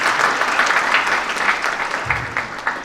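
An audience at a value education seminar applauds, with loud, dense, continuous clapping close by for the whole stretch.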